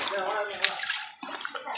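Floodwater gushes and sloshes steadily nearby through a broken wall while a person talks in Tamil over the flow.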